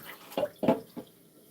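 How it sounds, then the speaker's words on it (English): Water poured from a tap into a container in a kitchen, a few short splashing bursts with gurgling that quickly fades to quiet, close and moderately soft. "And then we're going to fill that up with water."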